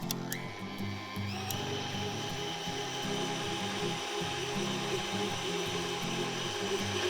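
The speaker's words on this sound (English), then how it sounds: "And then put the mixer back on." A stand mixer kneads milk bun dough with milk and cream in the bowl, giving a continuous motor whir with a rhythmic thumping churn, close and steady throughout with no talking.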